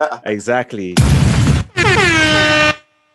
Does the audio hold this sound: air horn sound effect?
yes